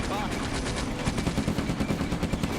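Sherman tanks open fire on a farm in the WWII North Africa wargame Combat Mission: Afrika Korps, with dense bursts of rapid machine-gun and cannon fire crackling continuously for a few seconds.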